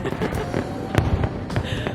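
Fireworks in Phnom Penh, Cambodia, crackle and pop continuously, with sharp louder bursts standing out against a dense, noisy street background where voices are faintly mixed in.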